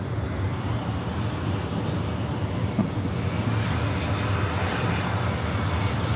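An airplane takes off from runway 24 left at LAX, its jet engines a steady, loud, broad roar that holds for several seconds with no voices.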